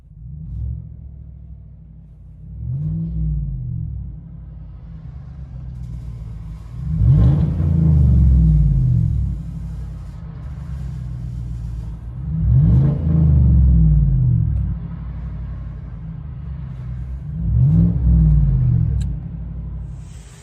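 Straight-piped 5.3L V8 of a 2016 Chevy Silverado Z/71 heard from inside the cab: a deep idle rumble swelling into four loud revs at regular intervals, each dropping back to a steady burble.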